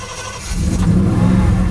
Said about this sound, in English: So, let's see if we can get the truck started.